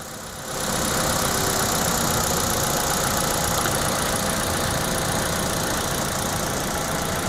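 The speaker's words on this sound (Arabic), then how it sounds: "هنبدأ ندور السيارة." A car engine with a vibration fault cranks and catches, then settles into a steady, loud idle close by, with a faint knocking texture running through the hum.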